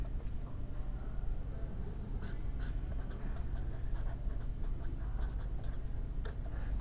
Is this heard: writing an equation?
yes